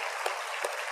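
A congregation at a Korean church service claps in a thin, even wash of applause, with a couple of sharper claps standing out briefly over the steady patter.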